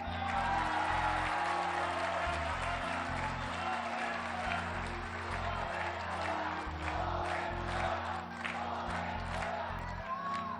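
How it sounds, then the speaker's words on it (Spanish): Sustained audience applause and cheering fill a crowded hall at a Mexican political event, loud and continuous throughout, with scattered whoops and a few voices rising over the clapping. "Le damos un aplauso también a Mara Lezama."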